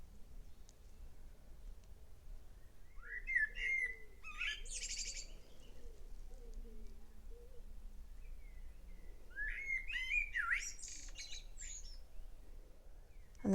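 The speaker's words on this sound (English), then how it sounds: "It's lovely and quiet out here in the evening apart from the birds" Blackbird and other birds sing in a quiet early-summer evening cottage garden in North Norfolk, with two clear bursts of warbling phrases standing out against a soft, still background.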